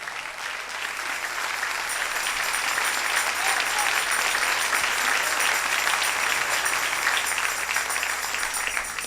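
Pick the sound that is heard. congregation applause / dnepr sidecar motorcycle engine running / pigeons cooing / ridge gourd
congregation applause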